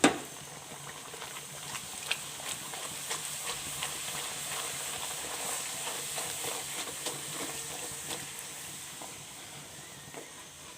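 Bhatura dough deep-fries in hot oil over a full flame, giving a continuous, even bubbling sizzle scattered with small crackles that holds steady throughout at moderate volume.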